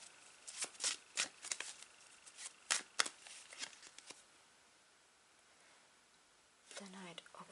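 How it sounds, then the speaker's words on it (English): Tarot cards being shuffled in quick, papery riffles and snaps, close and fairly quiet, a burst of flicks that trails off into near silence before a voice briefly speaks at the end. "Shuffle some more."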